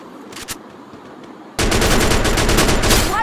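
In the video game Free Fire, after a quiet stretch with a couple of faint pops, sustained rapid gunfire suddenly erupts, a loud continuous burst of automatic shots.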